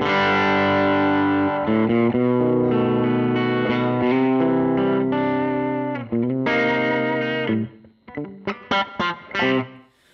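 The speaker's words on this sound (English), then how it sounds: "You probably want reverb of some sort. Okie dokie. Room reverb? Let's have a listen." A sustained, distorted electric guitar through a Valeton GP-200LT multi-effects processor's room reverb rings out with a roomy reverb tail, chords held then broken into short stabs near the end.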